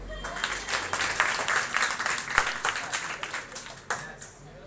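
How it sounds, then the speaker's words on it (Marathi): Audience applause from a seated group, dense overlapping claps that stay steady for several seconds with a few sharper individual claps near the end, fairly close and moderately loud. "एकदा स्वतःसाठी टाळ्या वाजवा"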